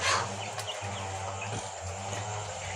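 Large chickens on a farm, clucking now and then amid a continuous low rumble and background noise, the calls faint and scattered rather than prominent.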